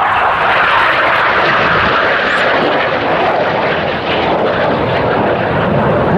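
Red Arrows jets flying in formation at RAF Waddington, a loud continuous roar of jet engines that holds steady throughout, with a broad rushing wash of sound and no pauses.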